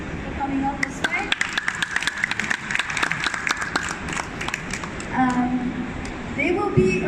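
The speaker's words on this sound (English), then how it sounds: "I want a warm round of applause to thank our panelists for coming all this way." Audience applause for panelists at the end of a quantum technologies panel at the Dubai Airshow 2021, sharp scattered claps over crowd murmur and a voice.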